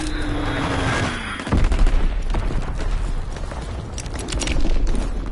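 A Fritz X bomb dropped in a video game, a falling whistle ending in a loud close blast, followed by rumbling crackle and scattered gunfire-like pops.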